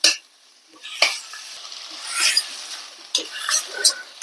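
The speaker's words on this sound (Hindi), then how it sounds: "थोड़ी देर इसे ऐसे ही अच्छे से मिक्स कर देंगे" Sarson ka saag, mustard greens, gets mixed in a pan: a few separate stirring scrapes and wet squelches, close but fairly quiet, with near-silent gaps between strokes and no one talking.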